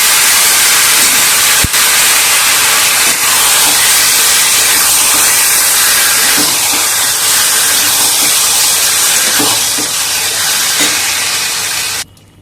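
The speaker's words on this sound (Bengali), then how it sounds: "ফেলবো কারি দিয়ে একটু ভেজে নিয়ে মেখে রাখা কুমড়ো দিয়ে দেবো" Marinated ash gourd frying in hot oil in a pan, a loud, continuous hissing sizzle with faint clinks of stirring, cutting off abruptly at the end.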